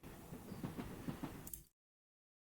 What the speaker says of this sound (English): Here's train.